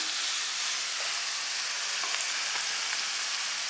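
Bottle gourd sautéing in hot oil gives a faint, steady hiss and sizzle, quiet and continuous with no talk over it.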